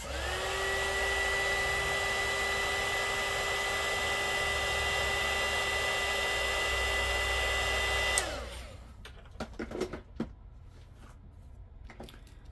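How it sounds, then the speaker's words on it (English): A cheap handheld heat gun blows hot air in a steady, loud whine with a constant hum for about eight seconds, then cuts off abruptly, leaving faint scattered clicks and small handling sounds. "I'm gonna use my heat gun again."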